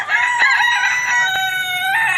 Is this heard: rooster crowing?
yes